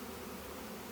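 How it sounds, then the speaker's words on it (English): Honeybees from a package being installed into a backyard hive give off a steady, even droning hum that stays faint and unbroken for the whole second, with no voices over it. "The bees are just there to ventilate and be able to tell where the"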